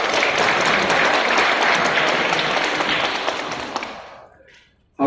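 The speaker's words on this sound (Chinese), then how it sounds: "我们是掌声欢迎我们副局长。" Audience applause at the opening ceremony of a high school quality-improvement expo in Tainan, a dense, loud crowd clapping that holds steady for several seconds, then thins out and fades near the end.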